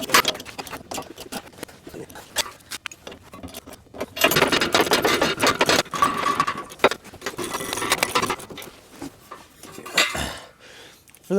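Metal clinks and ratchets as large fasteners are tightened on the middle cross members of a 2017-2022 Ford F-350 during a B&W gooseneck hitch install, close and irregular, with someone talking throughout.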